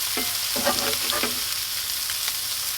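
Meat and onions frying in a pan, with a continuous close sizzle of hot oil and a few brief scraping strokes near the start, steady and fairly loud, with no talking.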